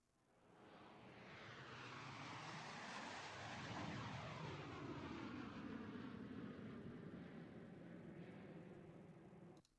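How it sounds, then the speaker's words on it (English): A fixed-wing airplane passes overhead, its engine roar swelling from faint to loud and sweeping in pitch as it goes by, then slowly fading away. "Airplane. Flyby. Perfect."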